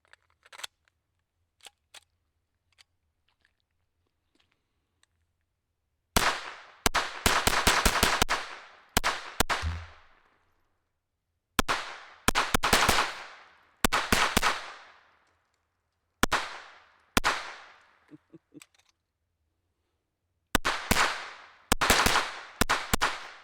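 A TandemKross Victory rimfire race gun fires in rapid strings of sharp, loud cracks, several quick bursts separated by short pauses, after a few faint clicks at the start.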